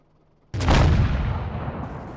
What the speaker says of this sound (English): So go ahead and shoot me, Cowboy, from there and see what we got.